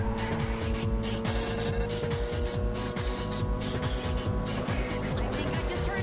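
Ridge Racer 7 race car screaming along at high revs with a sustained engine roar and constant tire noise, a nitrous boost surging within the steady drone, loud and continuous without pause.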